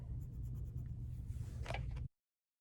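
Crayons or markers scratching steadily across paper while coloring a paper art project of a cut-out person, a continuous close rustling scrape with no talking.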